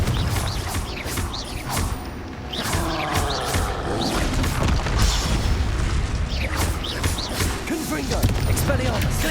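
Spell blasts and explosive booms from the Hogwarts Legacy video game with the Confringo fire spell, dense layered crashes and impacts in continuous combat, loud throughout with a voice calling out over the noise.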